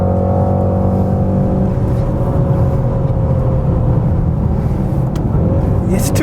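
A Mercedes-AMG GT 63S four-door pulls hard on a race track, its engine droning loud and steady inside the cabin as it accelerates out of a corner, with a dense constant roar throughout.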